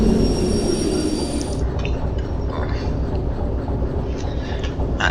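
A train in the video game Derail Valley rumbles heavily and continuously while its brakes squeal high and thin early on, then the squeal fades under the steady rolling noise.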